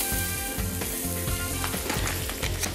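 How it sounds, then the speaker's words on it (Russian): Onion and garlic fry in butter in a pan, giving a steady, close crackling sizzle with rhythmic scraping strokes of stirring and no voices. "На сливочном масле обжариваем лук с чесноком."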